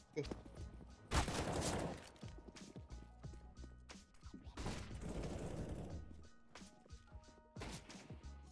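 CS:GO match gunfire, bursts of rapid shots and impacts in several clusters over game sounds, with voices talking and laughing over them.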